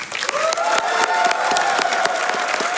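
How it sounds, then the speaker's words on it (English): A live crowd at a summer speedrunning event for the game Neon White breaks into loud, sustained applause with some cheering mixed in, filling the whole moment without any talk. "Let's give a round of applause to all the runners."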